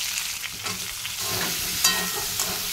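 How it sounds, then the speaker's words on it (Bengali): Potato pieces fry in a wok of hot oil, a steady dense sizzle with light scraping stirs and occasional sharper crackles, close and continuous with no talking. "এখন ভেজে নেব আলু।"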